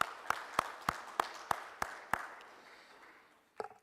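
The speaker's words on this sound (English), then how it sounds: "Please give him a big round of applause." Sharp, evenly spaced claps ring out about eight times, then fade into a lingering hall wash at an ICAI breakfast meet event, with a couple more claps at the end and no talking.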